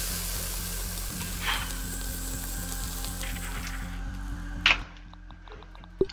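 Food sizzles as it cooks in the survival game Grounded, a steady crackling hiss with a faint repeating tick underneath, then two sharp clicks near the end.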